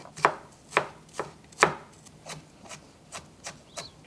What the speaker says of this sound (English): Then you can put them together and go over to make it smaller pieces.